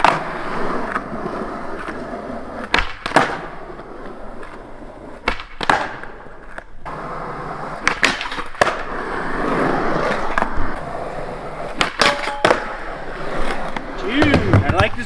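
Skateboarding on a Nyjah signature board, wheels rolling with sharp loud clacks of pops and landings at irregular intervals, people talking over the rolling between tricks.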